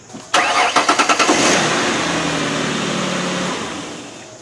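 A Ford Explorer being rebuilt after a wreck starts up just after its rewiring: a short burst of rhythmic cranking pulses catches into a loud, steady idle that carries on close by, with no talking.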